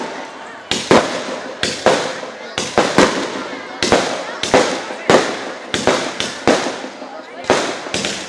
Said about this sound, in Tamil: பட்டாசு நிறுத்துப்பா, தாலி கட்டும் போது ஆரம்பிச்சிடும்.